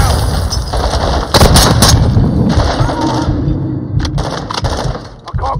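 Heavy combat in the Modern Warfare 2 campaign as an RPG rocket is fired: loud continuous gunfire and blasts with sharp cracking impacts and debris, dense and close throughout.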